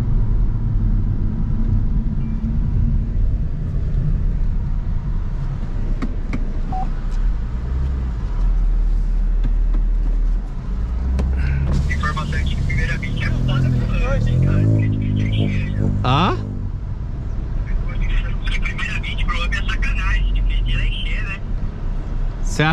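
A Chevrolet Cruze 1.4 turbo and a stage 2 VW Up TSI pull away together from a rolling start in first gear, engines droning and rising in pitch under steady male chatter with a constant wind-buffeted rumble.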